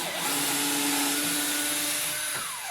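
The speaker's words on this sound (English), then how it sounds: "Little countersink." A power drill whirring steadily while boring a small countersink hole in wood for DIY pantry shelves, a close, loud continuous whine with slight pitch shifts as the bit bites and eases off.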